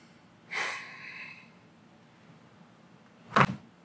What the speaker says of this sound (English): blow your breath out